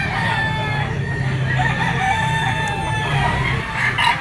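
Gamefowl rooster, a blue-legged bull stag at a rooster sale pen, crowing nearby amid other clucking chickens, a loud drawn-out call rising over busy yard noise.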